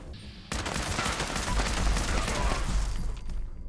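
Short combat rifle firing in Fallout 76, a rapid continuous burst of automatic shots starting abruptly after a quiet moment and running loud to the end.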